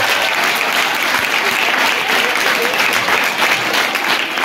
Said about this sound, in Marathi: एक साथ 15 टाळ्या सुरू कर